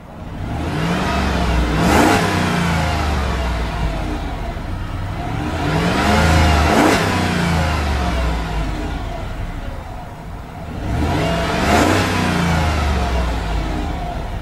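2010 Jeep Commander Limited with a 5.7 engine revved repeatedly, three rising and falling revs toward a limiter around 4,000 RPM, loud and close, with a steady engine hum between pulls.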